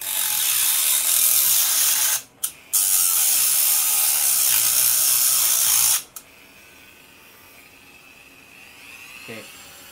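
A rotary tool grinding steel for a lock pick at slow speed, a loud steady high-pitched whine with a brief stop and restart, then cutting out and leaving a quiet hum with a faint click near the end.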